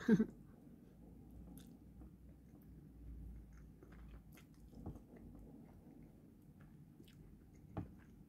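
A boiled egg being eaten, quiet close chewing with soft squishy bites and a couple of small sharper clicks, faint and without talk.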